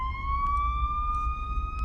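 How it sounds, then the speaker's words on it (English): An ambulance siren wails in a slow, steady rising tone, fairly close and clear over low traffic rumble, with no talking. "Oh, that's an ambulance."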